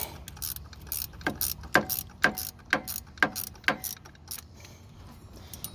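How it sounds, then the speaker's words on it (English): Ratchet wrench turning on a power steering pulley of an F-body car, a series of about six sharp metallic clicks in a steady rhythm, close and clear over a quiet background. "If you want to speed up the process, ratchet wrench really helps."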